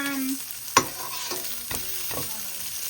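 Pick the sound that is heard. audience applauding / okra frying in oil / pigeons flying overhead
okra frying in oil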